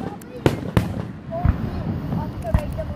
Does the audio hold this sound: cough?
no